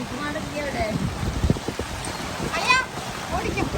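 Steady rain patters on a surface, a constant wash of drops with a few splashes, while voices speak over it.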